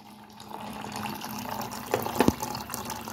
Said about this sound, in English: Fill up water, fill up.